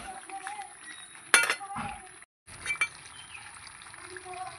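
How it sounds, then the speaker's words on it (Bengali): Water poured into a pan of braised chicken, with clinks of utensils and a splashing pour under light background noise, a brief gap, then softer liquid sounds. "আমি এবার জল দিয়ে দেব।"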